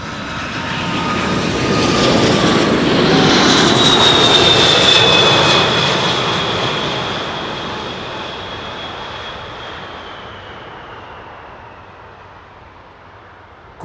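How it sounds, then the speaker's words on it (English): An airliner's Rolls-Royce jet engines roar and build to a loud peak on takeoff at Amsterdam Schiphol Airport, a high rising whistle cutting through, then the rumble slowly fades as it moves away. "Rolls-Royce engines, very unique sound."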